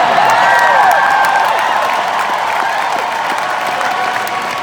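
A large arena audience applauds at a concert, dense sustained clapping with some cheering. It stays steady and loud throughout and eases off only slightly toward the end.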